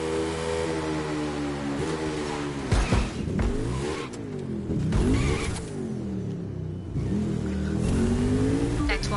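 Car engine in The Crew 2 racing game, revving hard with rising and falling gear shifts through a continuous loud run, brief dips between accelerations, no talking over it.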